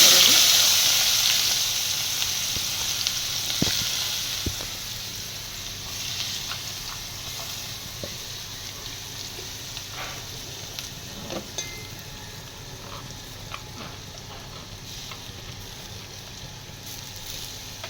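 Onions dropped into hot oil seasoned with asafoetida and turmeric, a loud steady sizzle that flares at the start then settles into a continuous hiss, with occasional clinks of a utensil against the pan.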